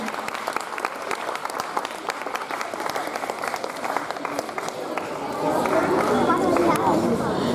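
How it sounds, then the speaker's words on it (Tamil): Audience applauding at a school Independence Day celebration, steady scattered clapping mixed with crowd noise and some background chatter, swelling a little louder toward the end. "உங்க கைத்தட்டல் தான் அவங்களுக்கு உற்சாகமே."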